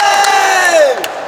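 Coaches and fans shout and cheer at the Russian taekwondo championship, one loud sustained yell rising above a roaring crowd.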